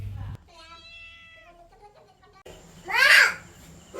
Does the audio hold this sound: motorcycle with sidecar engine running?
no